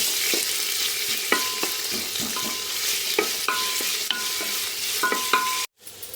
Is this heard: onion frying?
yes